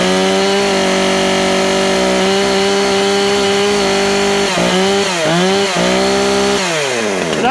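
A Husqvarna Rancher chainsaw, 455 or 460 model, runs right up close, a loud steady two-stroke buzz that dips and rises as the throttle is blipped toward the end, with no voices over it.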